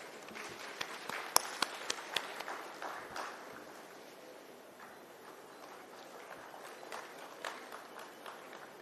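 Scattered audience clapping at an international summit in Lucknow, a few sharp claps standing out early before the sound thins to a faint, sparse patter that lingers quietly in the hall.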